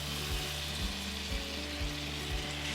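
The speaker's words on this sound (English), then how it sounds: "let's come over here and get our butter in the skillet. I have it preheated. I'm going to go ahead and add my oil in as well." Butter and oil sizzle in a preheated skillet, a dense, steady frying hiss heard close and alone, with soft regular stirring scrapes underneath.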